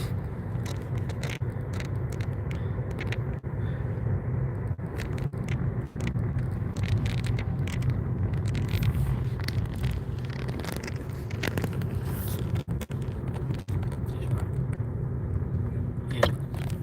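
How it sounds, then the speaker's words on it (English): Steady in-car road noise while driving along Roscommon Road in building traffic: a low engine and tyre rumble throughout, with scattered clicks and bumps. "as you can see, the traffic's really starting to build up"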